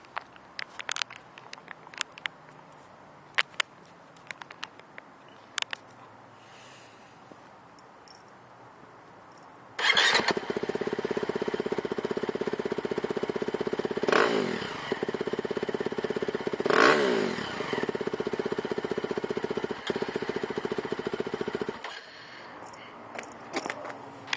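A used 2011 KTM 350 SX-F four-stroke dirt bike with an FMF exhaust fires up after a few faint clicks, then runs loud and close with a steady engine note and two sharp revs before shutting off.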